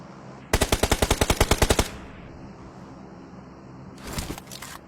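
A rapid burst of about fourteen loud machine-gun shots rings out in a shooter video game, followed by a quieter pause and then a second, shorter volley of gunfire.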